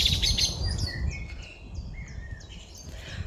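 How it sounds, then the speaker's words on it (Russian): A small bird chirps in a garden, its short, high tweets and quick calls sounding repeatedly over a steady low rumble of wind or traffic, clear at first and thinning toward the end. "Птичка убежала."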